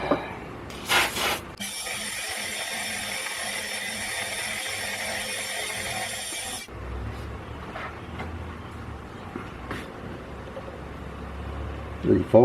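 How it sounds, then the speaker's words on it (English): Metal lathe machining the outside of a part for a model steam engine, running in reverse, a steady whirring cut with a bright tonal whine for several seconds, then quieter scraping and clatter while a person talks. "put the thing in reverse and machine the outside off this"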